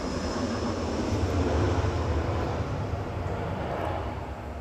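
Steady, loud broadband roar of an airplane flying, constant throughout with no talking.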